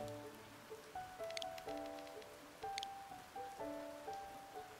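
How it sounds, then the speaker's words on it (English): Rain falling in the video game Snacko, a steady soft patter of drops under a gentle looping melody of tones, even and moderately quiet throughout. "it's raining"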